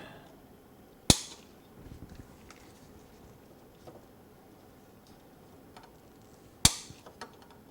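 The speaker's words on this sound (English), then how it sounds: "trim the leads" Two sharp, isolated snips ring out several seconds apart as flush cutters trim component leads on a freshly soldered precision clock kit, with only faint handling noise between them.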